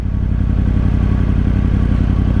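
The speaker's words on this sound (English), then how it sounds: "But I can't get over the exhaust tone of this engine." A 2013 Yamaha R1 sport motorcycle's engine and exhaust drone loudly and steadily up close, a deep, even rumble with a clattering mechanical edge and no talk over it.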